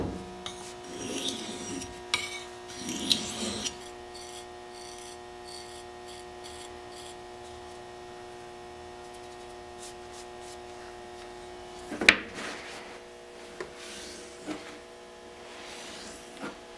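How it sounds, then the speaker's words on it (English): A knife blade sharpened on a fine Arkansas whetstone, giving soft rasping strokes close by, several in the first few seconds, then quieter scraping and a sharp scrape near the middle, over a faint steady hum. "I'll go ahead and sharpen it on my Arkansas stone, which is a fine stone, and it'll get us up to a nice shaving sharp edge"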